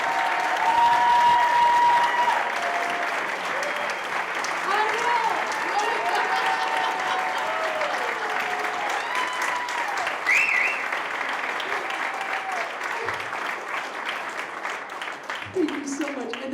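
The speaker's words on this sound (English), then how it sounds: "So would you please give Ron Newman a big round of applause?" A crowd at a music tribute event applauds Ron Newman, long steady clapping that fades slightly toward the end, with cheers and scattered voices under it.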